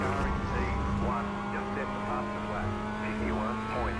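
A car engine in a racing video game holds a steady, droning tone through the whole stretch, while a person talks over it.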